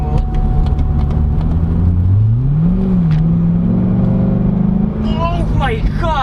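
A 2012 Chevrolet Corvette C6 Grand Sport in sport mode accelerates hard, engine note sweeping upward steadily for several seconds, loud and close, before a brief shift; a voice speaks near the end.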